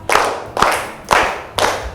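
A class of students clap hands together in a counting clapping game, four sharp group claps landing at an even, steady rhythm, fairly close and loud with no talking.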